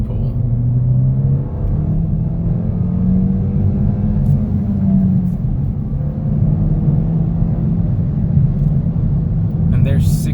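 A 2021 Kia Forte GT accelerates hard, its engine a steady, droning low rumble that climbs gradually in pitch and holds strong throughout, heard from inside the car.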